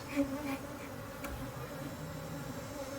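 Honey bees swarm around a hive during a robbing frenzy after honey extraction, a dense continuous buzzing drone close by, with individual bees whining past and no talk.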